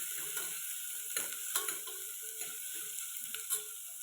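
Five slit green chillies sautéing in a pan for a one-pot coconut milk rice, giving a faint, steady sizzle with small crackles and occasional clinks of a stirring spoon.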